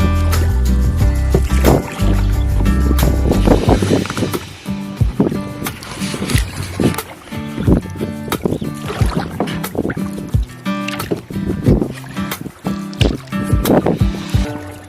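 A hand-rowed wooden boat glides along a river, with rhythmic oar splashes and knocks sounding close and fairly loud, and water gurgling steadily around the hull.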